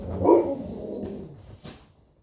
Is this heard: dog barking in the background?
yes